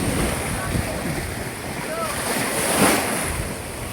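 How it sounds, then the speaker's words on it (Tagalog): Strong sea waves churn around a boat on an island-hopping tour off Basilisa, Dinagat Islands, a steady broad wash mixed with wind buffeting the microphone, swelling slightly toward the end. "Medyo malakas ang alon."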